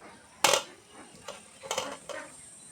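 A metal wok (kadai) set down on a kitchen stove gives a sharp metallic clank, followed by a few softer clinks and knocks, close and clear, with no voice over it.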